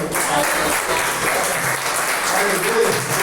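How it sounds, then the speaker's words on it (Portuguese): Congregation applauding during a family church service, a dense sustained clatter of many hands clapping throughout, with voices mixed faintly under it. "aplauso ao Senhor."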